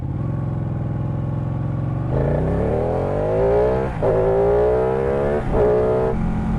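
A Ducati Panigale 899 sport motorcycle is ridden hard. The loud, close engine note climbs steadily in pitch, dips briefly at two gear shifts, then revs up again each time.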